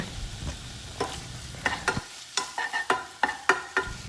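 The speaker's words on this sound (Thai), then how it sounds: "ลงไปแล้วก็ผัดนะคะ ให้จนสุกนะคะ" Pork stir-fries in a hot pan, a soft sizzle underneath a series of sharp scraping and tapping strokes from a spatula, close and irregular, with no talking.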